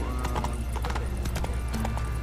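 Horse hooves trot in The Witcher 3, a steady clip-clop with a snort or whinny mixed in over loud, continuous game ambience and music.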